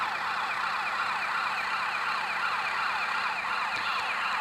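A wailing emergency siren sweeps up and down continuously at steady loudness, with no voices, from a pursuing police car in the video game GTA: Chinatown Wars.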